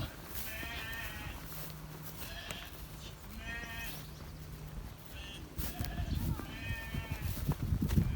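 A flock of lambs being driven along bleats repeatedly at mid distance, overlapping calls rising and falling over rustling movement and footsteps.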